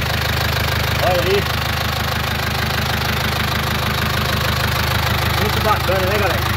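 A 1973 Ford F-350 engine idles steadily up close with an even, slightly knocking rhythm throughout, while someone speaks over it.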